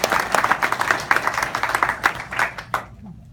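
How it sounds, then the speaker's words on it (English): A crowd claps in warm applause at a city council swearing-in ceremony, a dense run of hand claps that holds steady for a few seconds before trailing off, with no speech over it. "you deserve a round of applause and a pat on the back"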